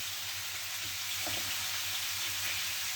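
Steady, dense sizzling hiss of pork frying in a pan, constant and fairly close, with no voices.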